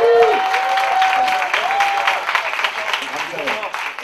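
Church congregation clapping and cheering to welcome a returning member during a Sunday service, a loud burst of applause and shouts with a voice speaking over the start and fading toward the end.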